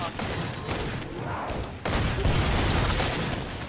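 Dense, sustained gunfire in the zombie shooter Killing Floor 2, a steady rattle of shots layered with in-game booms that grows louder and heavier partway through, with no talking.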